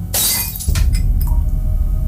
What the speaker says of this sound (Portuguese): seu braço bate no copo de vidro